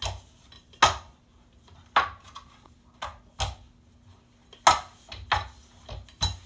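Fry bake dough rolled out with a rolling pin on a hard surface in a home kitchen, heard as sharp knocks and thuds at irregular intervals over a low steady hum, close and fairly quiet.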